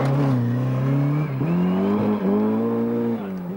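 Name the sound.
rally car spinning and sliding backwards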